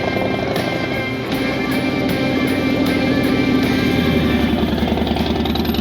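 Motorcycle engine held at steady revs during a riding skills practice session, a continuous loud drone with a dense rumbling hum throughout, without pause.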